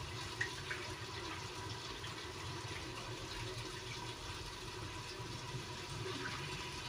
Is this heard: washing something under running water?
yes